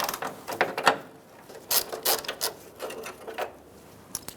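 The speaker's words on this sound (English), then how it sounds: "I'm using a 10mm socket again" Ratchet with a 10mm socket turning headlight bezel bolts on a 1999-2025 Ford E-350 Super Duty van, quick light clicks in short irregular bursts, close and fairly quiet.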